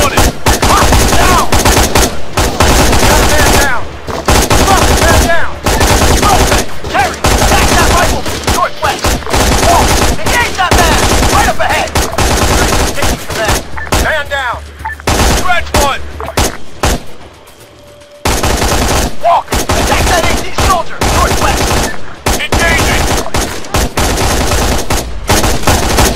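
Heavy gunfire in the military shooter Arma 3, with dense bursts of automatic fire and overlapping single shots nearly continuous throughout, joined by louder booming blasts and a brief lull near the end.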